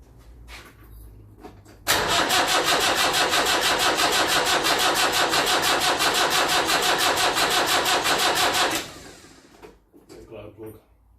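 A Land Rover Series 3 with a 2 1/4 diesel engine cranks with a loud, rapid, rhythmic starter churning for about seven seconds, close up, then stops, with quieter mechanical noise and some talk around it.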